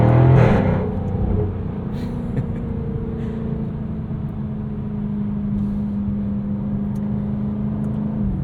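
A 2023 Jaguar F-Type R sports car engine rumbles with a brief louder rev at the start, then settles into a smooth, steady low drone throughout.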